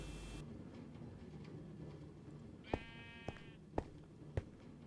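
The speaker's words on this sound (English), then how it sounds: "And you can hear the sheep." Sheep in a Minecraft sheep farm bleat in several short, sharp cries spaced about half a second apart over a steady background hum of the game.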